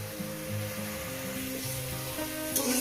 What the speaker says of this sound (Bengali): ঠিক এইভাবে একটু ভেজে নেবে মানে যেভাবে রান্নাটা করছি